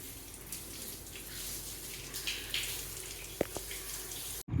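Water is poured onto fresh plaster to cure it in hot weather, making a steady, close hiss of running water with a couple of brief knocks near the end. No one speaks.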